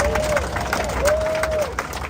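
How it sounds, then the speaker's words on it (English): A rally crowd at Freedom Plaza in Washington DC gives applause for the last two living Tulsa race massacre survivors: continuous mid-level clapping and crowd noise, with a brief tonal whistle-like sound over it. "Give them a round of applause, y'all."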